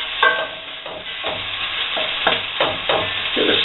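Sliced onion fries in melted butter, a steady close sizzle broken by several stirring scrapes and shifting bursts as the slices are moved around the pan, with no voices.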